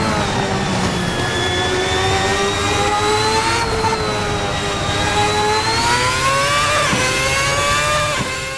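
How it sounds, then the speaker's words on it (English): A high-revving V8 race car engine from the RSS 2010 V8 sim racing game screams loudly and continuously, its pitch climbing and dipping through gear changes with a brief dip near the end. "High-revving V8 engine."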